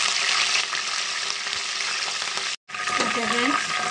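Cumin, mustard seeds, curry leaves and coriander frying in hot oil for a stuffed brinjal garlic masala curry, a dense continuous loud sizzle that cuts off briefly, then resumes.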